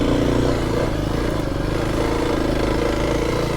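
A Kawasaki KLX300 dirt bike rumbles steadily as it rides a trail, its engine droning loud and close without a break, mixed with wind noise.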